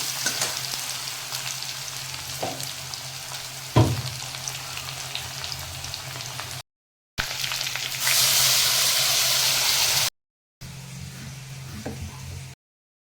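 Ginger-garlic paste and pointed gourd paste fry in a pan and get stirred, a continuous sizzle with scraping spatula knocks, broken by brief silent cuts and a sharp burst of hissing midway.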